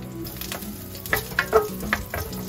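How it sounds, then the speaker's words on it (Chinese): Garlic sizzling in hot oil as it is stir-fried, a close crackling hiss with several sharp spatula clinks and scrapes against the pan in quick succession. "所以现在是蒜头先爆香"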